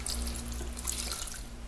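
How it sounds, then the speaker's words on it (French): Tap water runs steadily into a cooking pot to cover an artichoke, a close, continuous splashing and gurgling rush in a kitchen. "On vient recouvrir notre artichaut d'eau."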